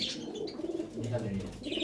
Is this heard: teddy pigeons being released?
yes